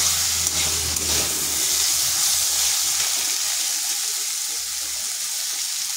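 Potatoes fry in a pan with a steady, loud, dense sizzle that holds evenly throughout without pause.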